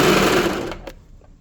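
A sewing machine stitches fabric for a small pet dress, a dense steady whir loud at first that winds down and stops partway through, leaving a couple of faint clicks.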